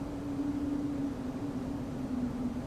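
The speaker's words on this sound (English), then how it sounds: "I can hear the engines now." Airbus A321neo jet engines droning steadily in the X-Plane 12 flight simulator, a continuous low hum with a faint steady tone, unbroken and even in level throughout.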